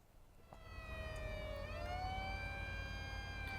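Two fire engine sirens in the prison-management game Prison Architect wail steadily with rising and falling tones over a low rumbling engine drone, continuous and fairly loud throughout.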